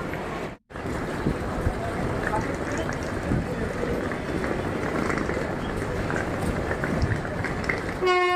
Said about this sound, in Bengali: ট্রেনে চড়ে পড়েছে এখন